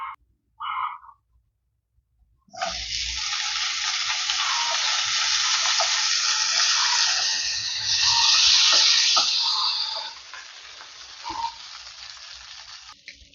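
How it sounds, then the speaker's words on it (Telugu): Brinjal pieces frying in a little oil in a reused pan for a roasted brinjal chutney: after a few brief clinks, a loud, steady sizzle starts suddenly, swells briefly, then fades off near the end, close and with no talk. "సేమ్ అదే ప్యాన్లో మళ్ళీ కొంచెం ఆయిల్ యాడ్ చేసి వంకాయ ముక్కల్ని ఫ్రై చేసుకుందాం"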